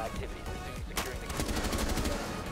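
Gunfire in Rainbow Six Siege, rapid repeated shots ringing out in dense bursts over a steady din of game sound, with no pauses between volleys.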